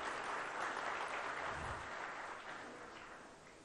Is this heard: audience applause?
yes